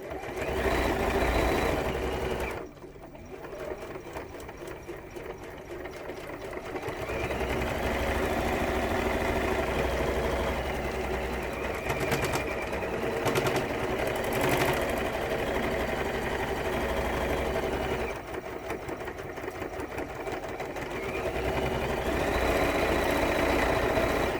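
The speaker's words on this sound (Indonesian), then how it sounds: "saya menjahit ulang di sisi outernya agar rapi" Sewing machine stitching along the outer side of a fabric pouch, a steady continuous motor drone with brief pauses and restarts, close and fairly loud, no voices.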